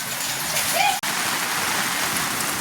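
Heavy rain falling on a street at night, a steady dense wash of noise throughout, with a brief dropout near one second and faint tonal chirps just before it.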